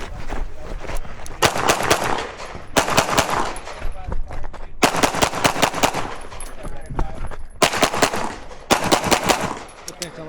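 Pistol shots ring out during a USPSA practical shooting stage, fired in rapid strings of sharp, loud reports grouped into several bursts with short pauses between them, close and echoing.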